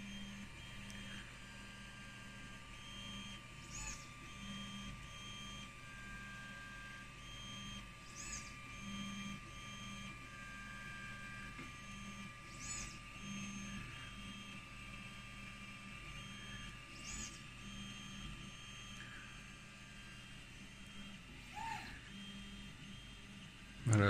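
Tevo Tornado 3D printer fitted with a TouchMi probe runs bed probing, its stepper motors whining steadily in a close, continuous hum with repeated short moves and pauses, alone without voices.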